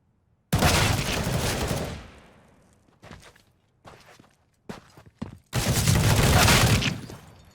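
Sniper rifle fire in Counter-Strike: two loud, close shots about five seconds apart, each with a long booming decay, separated by quieter clicks and in-game clatter.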